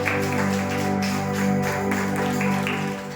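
Applause in a Sunday church service, a steady dense wash of many hands clapping together that holds at an even level throughout, blended with a sustained tonal background.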